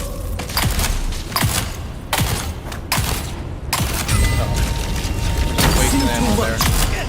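Gunfire in the video game Dune Awakening, sharp individual shots fired every second or so, loud and close, followed by rumbling and mechanical whirring.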